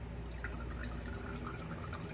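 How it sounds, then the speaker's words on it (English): Tomato juice trickles from canned tomatoes into a measuring cup, a faint close run of small drips and light splashes over low background hiss. "I'm going to pour that juice off of the tomatoes in my measuring cup"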